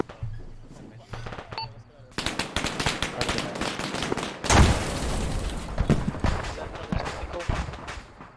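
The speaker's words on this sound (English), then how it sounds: "Explosion. Oh, behind me." Loud gunfire and a close explosion in the military shooter ArmA 3, a burst of shots followed by a heavy blast near the midpoint, with continued firing and a voice talking underneath.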